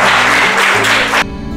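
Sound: children clapping applause

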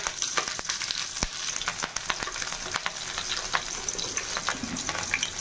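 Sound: cumin and green chillies frying in hot oil

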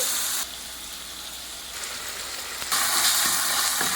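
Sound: tomato sautéing and sizzling in pan while stirred

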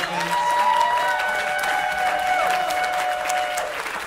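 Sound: audience applause

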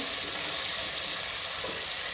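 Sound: onions and potatoes sizzling in oil

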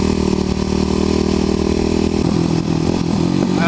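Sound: Kawasaki KLX250SF motorcycle engine while riding

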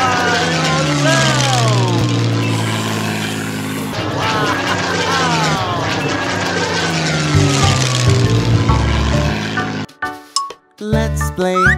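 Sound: airplane flying sound effect

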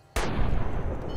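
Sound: gunshot in the video game Fallout New Vegas

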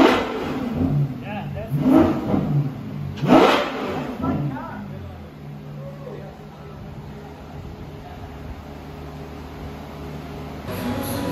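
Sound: N-Largo supercar revving as it rolls in

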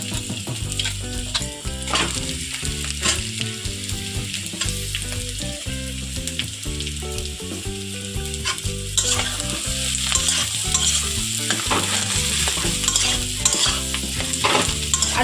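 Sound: onion, chili and potato frying in oil

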